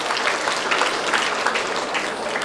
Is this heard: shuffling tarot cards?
no